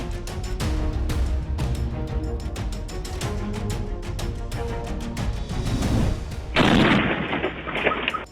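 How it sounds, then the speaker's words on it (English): A series of heavy booms and cracking blasts, then a sudden louder propane tank explosion with a roaring burst of noise that slowly fades. "This is another explosion, but it was caused by a propane tank."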